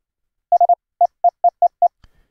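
A pure electronic morse practice oscillator tone from the Linux LV2 Trigger Midi Mono plugin pulses eight times in a quick uneven rhythm, clean and steady in pitch, followed by a faint low thump.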